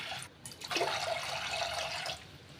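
Water pours steadily for about two seconds over roasted moong dal to rinse it, a rushing, splashing sound, close and moderately loud, then stops.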